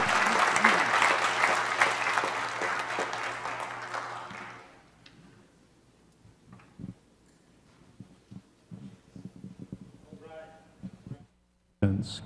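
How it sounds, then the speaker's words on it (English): Audience applause at a city council special meeting, a room full of steady clapping for about four seconds that tapers off, followed by quiet room sounds, scattered knocks and brief speech. "So Clifford, thank you, and let's please give him a round of applause."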